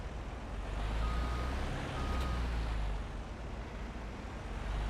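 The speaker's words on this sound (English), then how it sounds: "All right, we got our garbage truck." Garbage truck in the Farming Simulator 25 video game sounding steady reversing beeps over a loud, continuous engine rumble, close by, with no talk.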